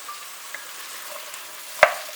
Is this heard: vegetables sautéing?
yes